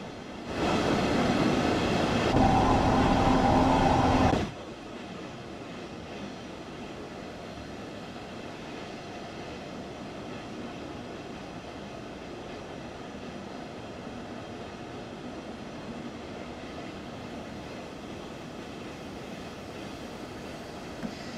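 A train rolls steadily along the rails with a continuous rumbling hiss, a loud burst with a held tone in the first few seconds, then a quieter, even running noise alone.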